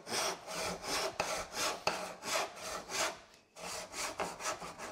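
A hand saw cuts through wood for a tenon in rhythmic back-and-forth strokes, about nine close, clear rasping passes with a brief pause before the last few.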